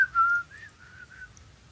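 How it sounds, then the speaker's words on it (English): A person whistling a short, soft melody of a few wavering notes, close to the microphone and alone, with quiet background hum. "Whistling on my own"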